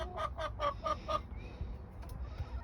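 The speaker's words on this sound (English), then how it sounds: "Yeah, happy chickens." Chickens in a pen with new flooring give a quick series of about five clucks, close and fairly quiet, over a low rumbling background, followed by fainter scattered fowl noises.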